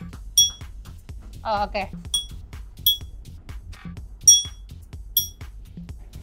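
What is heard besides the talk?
clinking a drinking glass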